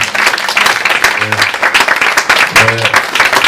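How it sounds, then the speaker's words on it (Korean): Dense applause from the audience at a Korean theatre award and scholarship ceremony fills the hall continuously, while low musical tones sound twice underneath. "여러분 큰 박수로 다시 한번 환영해 주십시오"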